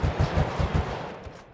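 Rapid gunfire in the GTA V video game during a gang war in a favela, a burst of close, punchy automatic shots in quick succession that fades out toward the end, with no talking.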